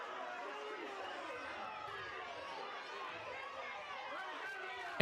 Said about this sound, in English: You can hear the crowd in the grandstand full of energy and cheer.